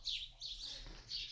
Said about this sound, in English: Some bird wars going outside of our window.